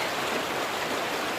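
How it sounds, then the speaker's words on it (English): Deep stream water gushes in a steady, broadband rush close by, loud and continuous with no talk. "the water gets deep and it's gushing"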